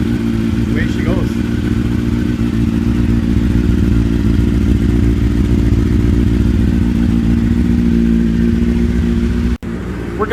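A 2003 Kawasaki ZX9R motorcycle idles steadily while warming up, a loud, close, continuous low engine rumble that holds even throughout, with a brief dip near the end.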